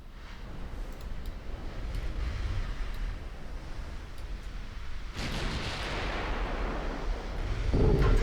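Heavy naval guns on an old dreadnought-style warship boom in a US Operation Husky campaign battle in a video game, a dense rumbling barrage that swells into a louder burst about two-thirds through and keeps roaring without any talk.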